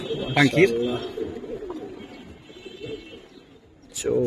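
Pigeons coo nearby while people talk close by, with a couple of louder bursts of voices at the start and end.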